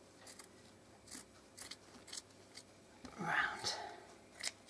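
Fabric scissors snip through one layer of shirt fabric along a seam in a series of short, crisp cuts, close and fairly quiet, with soft talk underneath.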